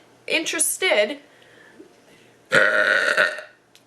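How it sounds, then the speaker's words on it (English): Two loud, drawn-out burps close to the microphone, the first split into a couple of gulping bursts, the second longer and raspier. "If you want to hear me belch more"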